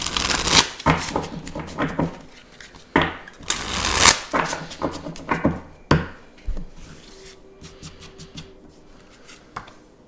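Charm cards being shuffled by hand, close and fairly loud, in bursts of rapid riffling and slapping with short pauses between, tapering to softer handling toward the end.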